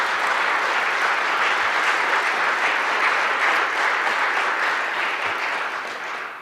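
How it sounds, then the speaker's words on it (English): Sustained applause from a large audience at a Department of Justice Veterans Appreciation Day ceremony, a steady wash of many hands clapping that eases slightly at the end. "Let's give them one more round of applause."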